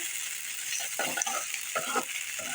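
Ginger, garlic and spices fry in hot oil with a bright, continuous sizzle. Bursts of stirring and scraping come and go in quick, irregular strokes, close to the listener.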